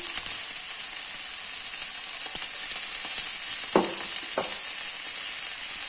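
Steady loud sizzling of a small batch of beef frying in a hot pan for stir fry, with a few brief scraping clicks partway through.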